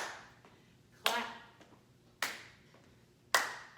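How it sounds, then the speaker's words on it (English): Hands clap together at chest level during a seated weights exercise class, three sharp, close claps spaced about a second apart, with a quiet background between them. "I want to hear those claps."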